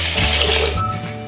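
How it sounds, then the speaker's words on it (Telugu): About a litre of water is poured into a cooking pot of rice for fried rice, a short, close, gurgling splash that fades at the end. "ఇలా రైస్ను ఉడికించడానికి వీలుగా ఉండే గిన్నెలో వేసుకొని 1 లీటర్ వరకు వాటర్ను పోసుకోవాలి"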